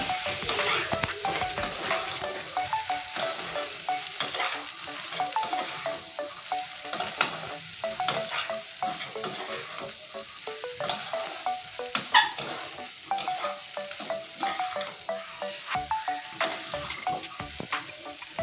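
Boiled corn being stirred in a hot pan for spiced masala corn, giving a steady frying sizzle with repeated scraping and clinking stir strokes, close and continuous, no voices.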